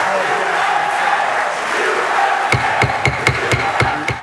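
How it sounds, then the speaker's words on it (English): Applause breaks out in a state Senate chamber as the deciding vote for same-sex marriage is announced, a steady crowd roar with voices mixed in and sharp claps or bangs near the end. "applause broke out as the 33rd vote in favor of gay marriage was announced"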